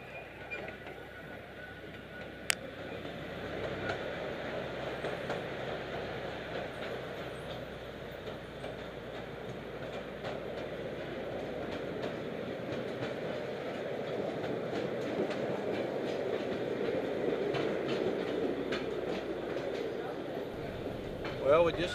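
Steady rumble and rolling clatter of a small park train carrying riders through shady Queen Wilhelmina Park, continuous for the whole stretch with a single sharp click early on and faint voices mixed underneath.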